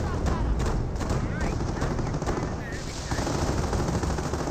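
Machine gun fire from an MG bunker in the Company of Heroes battle game, a dense, continuous rattle of rapid shots mixed with battle noise, with talk over it.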